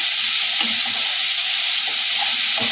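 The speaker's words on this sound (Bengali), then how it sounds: "আরও মিনিটখানি সময় ধরে একটু ভালো করে নেড়ে নেব" Vegetable quesadilla filling of mixed veg sizzles in a hot pan, a broad steady hiss with a few soft scraping stirs of a spoon against the pan, close and continuous with no voices.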